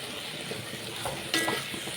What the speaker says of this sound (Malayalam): ഇതെല്ലാം കൂടി നമുക്ക് നന്നായിട്ടൊന്ന് ഇളക്കി യോജിപ്പിക്കാം.